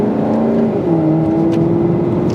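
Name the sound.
Maserati GranTurismo MC exhaust revving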